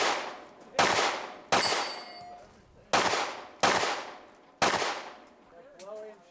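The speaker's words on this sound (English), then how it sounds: "Nice little well-aimed shots." Pistol caliber carbine fired at an outdoor action pistol side match, six sharp loud shots spaced at a slow, even pace with ringing decay between, and a brief voice at the end.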